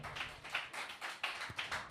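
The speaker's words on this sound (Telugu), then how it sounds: "కొట్టు చప్పట్లో ఒకసారి" Church congregation clapping hands in rhythm during a sermon, a quick run of roughly even, fairly faint claps.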